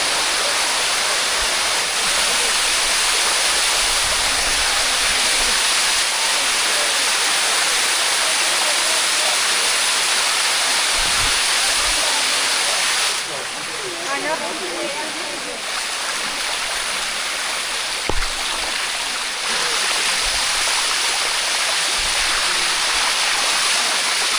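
A waterfall and flowing mountain stream near Chiang Mai, Thailand, roaring as a loud, constant wash of rushing water that fills the whole scene, with brief muffled thumps of movement nearby.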